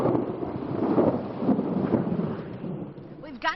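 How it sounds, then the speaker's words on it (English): Loud thunder rumbling over Tampa Bay in Florida during a strong thunderstorm with high winds, a long deep roll that swells and fades, with rain noise beneath and a brief sharper crack near the end. "it brought loud thunder and high winds"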